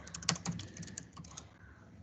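Rapid keystrokes clatter on a computer keyboard during office software data entry, a quick uneven run of close clicks that thins out toward the end, with a faint voice briefly in the background.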